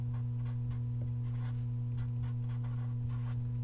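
Faint scratching strokes of a pen writing the GCF by hand on algebra work, soft and intermittent under a steady electrical hum.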